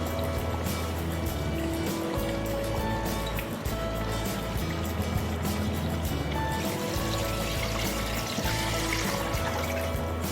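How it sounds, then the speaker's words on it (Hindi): Beef broth (yakhni) is poured into a pot of paya, a steady liquid pour and trickle heard close against a constant background hum, with no talking. "अब मैं इसके अंदर इसकी यखनी ऐड कर रही हूँ।"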